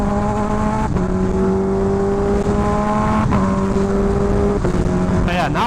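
Engine drone from a carbon fiber Kawasaki Ninja H2R motorcycle cruising at freeway speed, a loud, steady tone with brief dips as the revs shift, under heavy, continuous wind rush.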